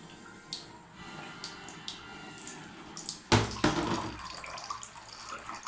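A Panasonic TK-AS45 alkaline water ionizer set to level three runs water from its spout. A faint background hiss gives way to a sudden louder gush that keeps a steady splashing stream.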